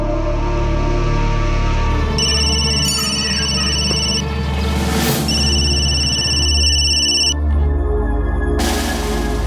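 A telephone rings in repeated electronic bursts over a loud, continuous music bed, each ring lasting a couple of seconds with short gaps between.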